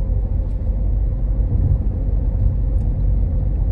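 A Mahindra XUV700 diesel automatic cruises along an expressway, a steady low road rumble and engine drone filling the cabin without pause.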